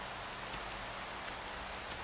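Steady rain in a Minecraft modpack world, a constant dense hiss of falling drops with no breaks, moderately loud and without voices.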